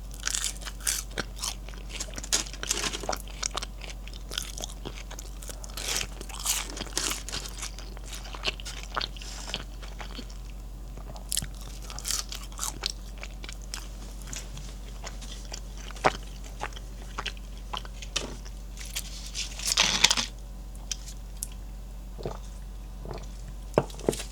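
Crunchy Wingstop hot honey chicken wings are eaten close up, with sharp crisp bites and wet chewing scattered irregularly over a quiet background and a louder burst of crunching near the end.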